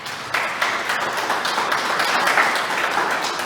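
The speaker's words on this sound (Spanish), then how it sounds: "Dale un aplauso a Dios por eso." Church congregation applauding, a steady dense wash of clapping lasting the whole stretch, moderately loud and without a break.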